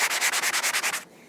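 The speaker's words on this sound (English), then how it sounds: "let's get our sanding block. And we're gonna do a light coat of, a light pressure of sanding on here." A sanding block is rubbed over a painted surface in about nine quick, even back-and-forth strokes, close and scratchy, before stopping.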